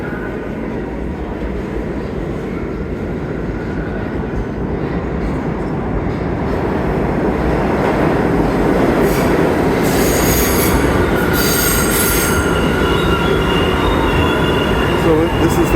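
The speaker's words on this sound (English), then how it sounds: "there's the 1 train across the way" A New York subway train on the Broadway–7th Avenue line pulls into the Columbus Circle station with a loud, steady rumble. High wheel squeals rise near the end of the clip, and no one speaks.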